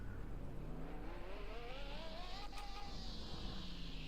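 In the Car Mechanic Simulator 2021 video game, a BMW M3 engine rises in pitch as it revs up and then settles back to idle, heard at moderate loudness over a steady hum with no talking.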